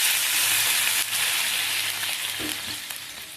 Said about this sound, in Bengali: এটা ভাজা ভাজা হয়ে গেছে, আমি জল অ্যাড করে দিলাম।